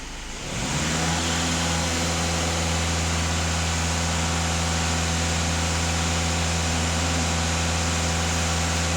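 A VW Golf 2.0 TDI EA288 diesel engine is revved to a steady raised speed, a loud, constant droning roar that climbs quickly in the first second and then holds evenly with no talk.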